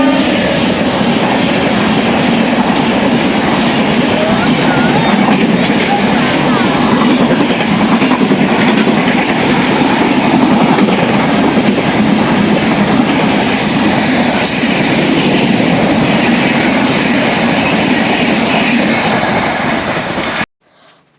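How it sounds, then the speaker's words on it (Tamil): The Karaikal to Mumbai LTT weekly express train rolls past close by, a continuous loud rumble with rhythmic clattering of wheels on the rails, cutting off abruptly at the end. "இப்போ பாருங்கள், இந்த ட்ரெயின் தான் ஸ்டேட் விட்டு ஸ்டேட் போகுதுங்க."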